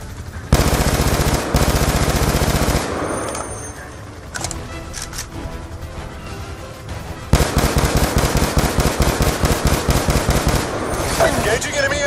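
Rapid automatic gunfire rattles in long bursts in Black Ops 2 as enemy infantry are engaged. Two loud, sustained volleys are split by a quieter gap holding scattered shots and distant crackle.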